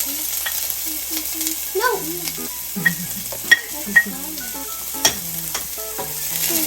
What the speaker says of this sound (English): Now when the garlic is light brown, we can put the onion